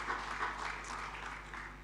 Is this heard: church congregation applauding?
yes